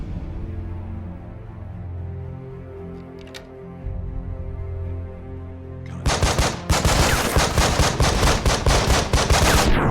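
In the tactical shooter Breach and Clear, a low droning backdrop gives way to sudden sustained automatic gunfire, rapid close bursts hammering continuously in the second half.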